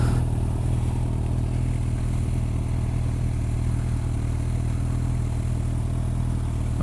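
A Suzuki GSX-R sport motorcycle roll-racing a GTR on the freeway holds a loud, steady engine drone from up close, with wind and road noise and no talk.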